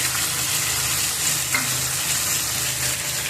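Spice paste hits hot oil in a pan for a vegetarian matar paneer curry, giving a steady, close, bright sizzle with soft stirring and no talk.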